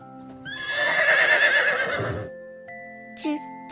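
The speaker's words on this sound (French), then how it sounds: "Dans un pré, un cheval se tenait immobile sous la lune." A horse whinnies loudly for about two seconds, its high wavering cry trailing off, followed by a quiet pause and a brief softer snort.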